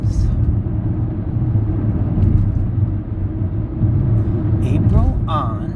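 A car drives through traffic in Chicago's western suburbs, its steady low engine and road rumble constant and close, while a person talks over it.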